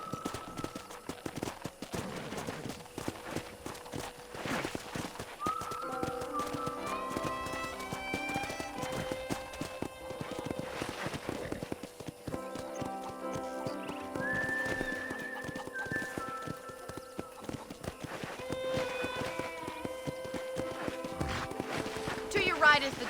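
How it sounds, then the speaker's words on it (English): Hoof clip-clops from a horse moving along in the video game Red Dead Redemption, heard under steady talk and light background music, with a whinny-like tone now and then. "I picked out a fine horse for you. Giddy up!"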